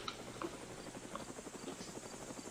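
A helicopter in the Roblox game Mad City gives a fast, steady rotor chop, fairly faint and continuous.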